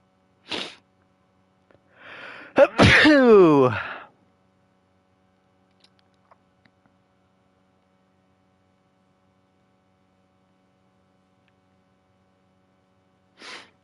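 A person sneezes once, loudly and up close, with a drawn-out voiced build-up and an explosive release, followed by near silence with a few faint clicks and a low mains hum.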